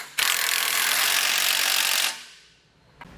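A socket wrench ratchets steadily for about two seconds as kit bolts are driven in with a 17mm socket during a Demco Tabless base plate install on a 2022 Jeep, then stops, leaving quiet shop ambience and a faint click.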